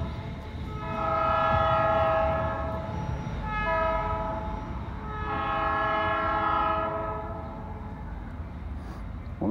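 A freight train with gondola cars rolls through a railroad wye on a short line railroad in Sardinia, its horn sounding in several long, swelling blasts over a steady rumble of wheels and cars nearby, with no talking.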